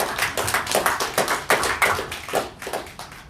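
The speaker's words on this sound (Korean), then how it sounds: "박수로 맞아주십시오" Audience clapping welcoming a speaker at a public presentation, a steady, dense patter of many hands at moderate loudness, continuing evenly throughout with no talk.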